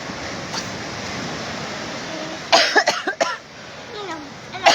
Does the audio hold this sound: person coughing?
yes